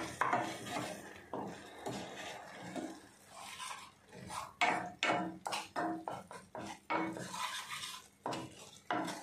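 A spoon stirs paneer and green peas masala in a pan, giving irregular scrapes and metallic clinks against the pan over a faint sizzle, close by and with no voices.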